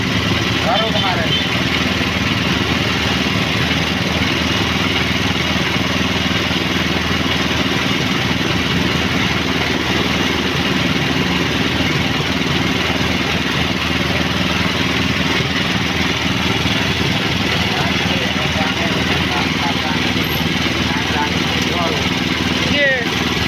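A newly bought sugarcane juice machine's engine runs steadily at close range, a constant droning hum with a light mechanical rattle, with people talking over it.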